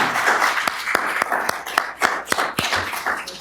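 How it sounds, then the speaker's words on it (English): An audience at a candidate forum claps for the candidates, a dense patter of many hands with sharper individual claps standing out, fairly close and steady for a few seconds with no talk. "will you please give our candidates a round of applause?"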